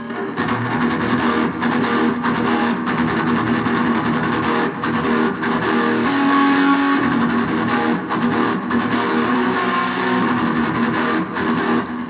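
A distorted electric guitar chugs in a fast galloping picking rhythm, loud and driving throughout, with no voices over it.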